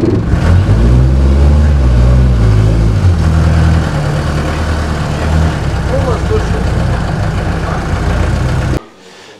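A retro car's engine runs loud and close during a motor day festival at the Retromobilis museum in Šeduva, Lithuania. It rumbles and revs with shifting pitch for most of the time, then cuts off abruptly near the end, with voices talking over it.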